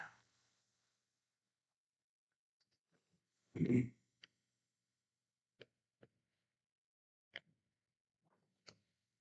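Dice tossed at a casino craps table: one louder rattling tumble midway, then several sharp isolated clicks spaced over the following seconds, with faint talk at the start.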